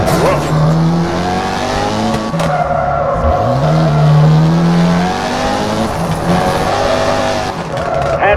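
Mitsubishi Evo IX WRC rally car sliding through a hairpin on a handbrake turn, its engine droning loud and close while the tires skid and scrub continuously throughout, with a co-driver's pace-note voice partly heard.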